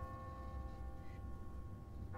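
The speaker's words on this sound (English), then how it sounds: "What kind of church bell goes off at 20 past the hour?" An automatic, timer-driven church bell in The Walking Dead video game gives a sustained, faint ringing tone that hums steadily as if heard from a distance.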